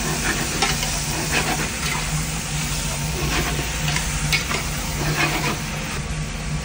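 Pork ribs seasoned with pepper and salt, stirred in a pan over heat: steady frying sizzle and hiss with intermittent scrapes and clacks of the utensil, close and continuous, no voices.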